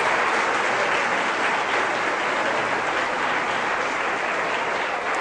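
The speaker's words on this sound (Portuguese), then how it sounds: "As palmas para o Senhor." Church congregation claps steadily in a continuous, loud wash of applause with no voices standing out.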